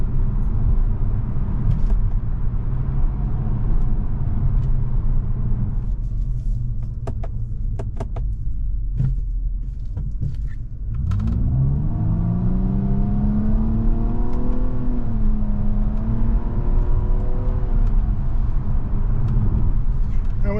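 A 2023 Nissan Maxima SR with a CVT drives along, its engine and road noise a steady loud drone. Partway through, a smooth rising and falling engine whine builds as the car accelerates.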